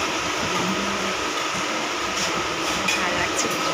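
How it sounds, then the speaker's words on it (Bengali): A train running, heard from inside the carriage as a steady, loud rumble and hiss that fills the whole stretch, with no talking. "লাস্ট আমি ট্রেনে উঠে পড়েছি।"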